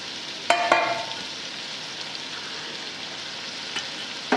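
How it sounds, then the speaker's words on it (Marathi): Mixed vegetables stir-fried in oil for spicy Marathi masale bhat: a soft, even sizzle, with a couple of brief clattering stirs near the start and a quiet, steady frying hiss after them. "आता या भाज्या आपण चांगल्या परतून घेऊ।"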